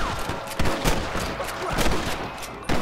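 Gunfire in the Red Dead Redemption video game: a string of sharp shots in irregular bursts across a noisy outdoor battle, with no clear speech.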